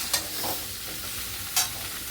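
Pieces of catla fish with turmeric stirred in a pan, a soft hiss of frying broken by two sharp scraping strokes of the spatula.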